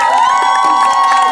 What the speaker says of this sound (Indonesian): Tepuk tangan lagi biar tambah semangat lagi yuk buat warga kita.